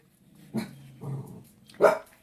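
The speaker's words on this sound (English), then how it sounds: "Now that's a new bark." A small dog gives three short, close barks with a slight growl, separated by brief pauses in an otherwise quiet room.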